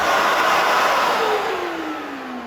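A STIHL SE 33 wet and dry vacuum cleaner motor runs at a steady, loud whine with a broad rushing airflow, its pitch sliding down slightly as it continues, close by with no talking.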